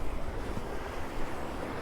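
Sea waves breaking against rocks along a rocky coastline at Paguera in Mallorca, heard as a steady broadband wash of surf, fairly loud and close, with wind noise buffeting the microphone throughout.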